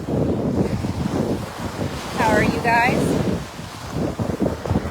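Ocean waves wash steadily onto a beach under heavy wind buffeting the microphone, loud and continuous, while a person speaks briefly over the surf.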